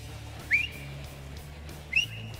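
A man whistling at an open-water swimming race in a bay, two sharp, brief rising whistles about a second and a half apart, heard at a moderate distance over low background rumble.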